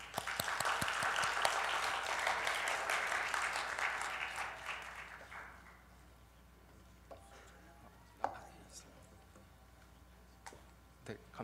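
A church congregation at a Friday prayer meeting claps together for several seconds, a bright crackle that fades out, followed by quiet room sounds, a few sharp knocks and faint talk.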